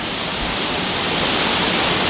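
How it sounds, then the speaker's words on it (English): Steady, full-band rushing of falling water at the Hareshaw Linn waterfall in Northumberland, loud and close, constant with no breaks and no voices. "Hareshaw Linn's a waterfall, about maybe 40-50 miles away from where I live"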